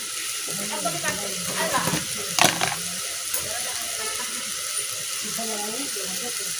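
Spices with salt, turmeric and chili powder sizzle and fry in a pan for ghugni, a soft steady crackle with occasional scraping stirs and clinks, under quiet speech.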